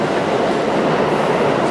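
A subway train rumbles steadily through an underground station, a loud continuous roar with faint wheel clatter filling the whole stretch, close by and with no voices.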